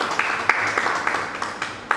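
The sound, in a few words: congregation clapping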